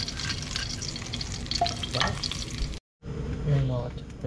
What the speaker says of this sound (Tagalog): Nagigisa naman tayo.